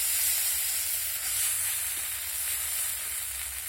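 Ground chili, ginger and garlic paste frying in a pan as it is cooked down for a papaya and egg curry, a steady even sizzle with bright hiss throughout, close and continuous with no talk.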